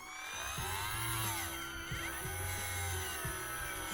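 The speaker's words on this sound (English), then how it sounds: "you can actually just kind of drill in right here" A power drill with a bigger bit bores into the plastic thigh of a DC Icons Nightwing action figure, whining in short bursts with pitch shifts as the motor speeds up and slows, heard close and alone.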